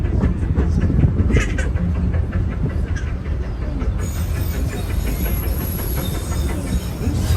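A Disneyland railroad train rolls through a tunnel near Toontown Station, a loud, steady rumble of wheels on rails with rhythmic clacking that holds throughout, the tone shifting partway as the car moves deeper into the tunnel.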